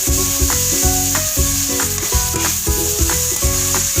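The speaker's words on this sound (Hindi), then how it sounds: "गोश्त को फ्राई करने के लिए मैंने फ्लेम जो था वो हाई किया था।" Boneless chicken frying over high flame with tomatoes and spices for a handi, a loud continuous sizzle broken by rhythmic clinks of a spoon stirring against the pot.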